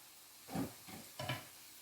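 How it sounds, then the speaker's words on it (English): Plantain fries softly in hot oil, a low sizzle with a few brief louder crackling surges, heard up close in a quiet kitchen. "So that's frying there."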